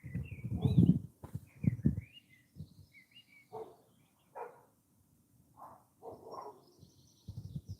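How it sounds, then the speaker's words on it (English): European goldfinch and Eurasian blackbird sing in a back garden with fruit trees, scattered high chirps and short phrases coming and going, with louder low thumps and rustles early on. "the European goldfinch has joined the Eurasian blackbird in being quite noisy"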